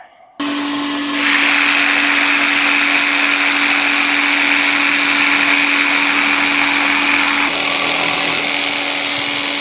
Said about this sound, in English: So I just got to jigsaw it again.